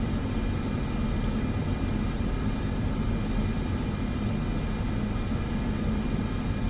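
A Cessna's engine drones steadily while taxiing in Microsoft Flight Simulator 2024, a constant, even rumble close by with no speech.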